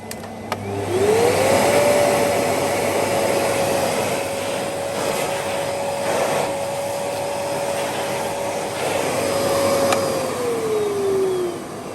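A Karcher vacuum cleaner running on its minimum power setting spins up with a rising whine, holds a loud steady drone for about ten seconds, then winds down, with no talking.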